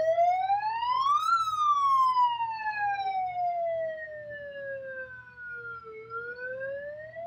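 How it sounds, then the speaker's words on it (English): A loud electronic bullhorn siren wails at a ballpark patio after a home run, its pitch sweeping up and then slowly gliding down before rising again, close and continuous. "I use the bullhorn on a very limited basis, because it's a little loud"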